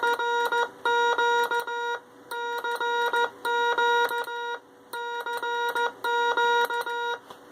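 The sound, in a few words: Morse code CQ played as beeps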